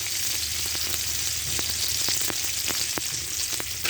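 Panch phoron spices sizzling in hot oil with chopped onion and crushed garlic, a steady loud crackling hiss broken by sharp little pops, heard alone without talk.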